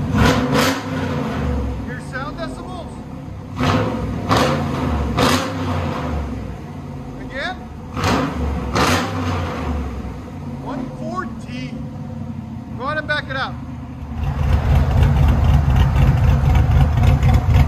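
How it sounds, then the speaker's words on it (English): A cammed 5.3L V8 in a 1984 Chevy C10 with long tube headers and true dual exhaust idles with a lumpy, choppy rumble, then revs louder near the end, with voices talking over it. "The sound of a cam. I love the sound of a cam, man."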